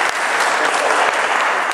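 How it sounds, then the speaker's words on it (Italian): During a concert by a band complex at Grotte, the audience gives a burst of dense, loud applause that fills the room evenly, with many hands clapping together. "io direi di fare un applauso a Padre Dottor"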